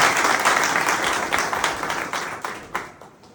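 Audience applause at a Swaminarayan temple ceremony in a village, honouring a swami at a murti reinstallation, with dense sustained clapping that thins and fades toward the end.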